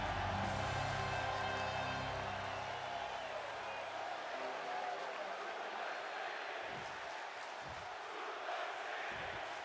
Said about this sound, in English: Sounds like the crowd is firmly behind Brock Lesnar chanting Suplex City